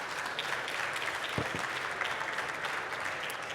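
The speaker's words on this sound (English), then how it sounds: "A big applause for Toby" Festival start-up pitch audience giving a short burst of steady applause, moderately faint and continuous, with a couple of sharper thumps in the middle.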